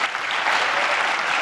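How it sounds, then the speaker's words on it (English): Steady applause from a crowd, dense clapping filling the space with no voices over it. "He likes to get 2 rounds of applause."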